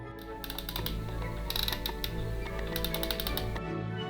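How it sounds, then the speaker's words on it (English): Toy mini-rig blaster mechanism clicking in rapid bursts of sharp plastic ratchet clicks, close and steady with brief pauses between runs. "like with most mini-rigs, this has the clicking blaster action"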